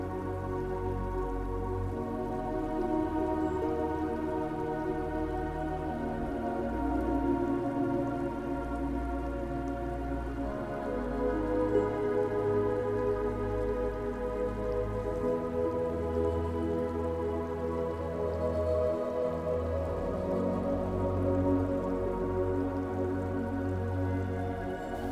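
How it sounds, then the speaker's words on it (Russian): Water falling from an upper floor drips steadily into cups and dishes left on a table inside a fire-damaged abandoned mansion, a continuous patter of drops with low rumbling room noise and no voices. "оставленная на столе посуда, теперь наполненная падающей с верхнего этажа водой"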